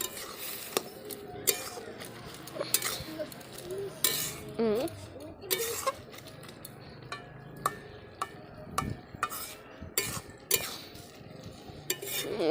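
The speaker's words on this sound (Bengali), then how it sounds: "দেখি ঢাকনাটা খুলে সেদ্ধ হয়েছে কিনা বাবা।" Metal clanks and scrapes from a cooking pot and its lid on a wood-fired clay stove, a series of sharp knocks and clinks over a soft simmering background, with occasional voices in the background.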